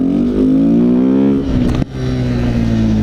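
A Kawasaki Z125 motorcycle engine revving steadily in a parking lot during wheelie practice, a loud close buzzing drone that rises in pitch, dips briefly, then holds again.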